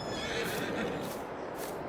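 A horse neighs in Farming Simulator 22 on a Missouri farm, one close, sustained whinny lasting a couple of seconds over a steady background.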